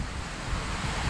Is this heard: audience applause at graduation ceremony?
no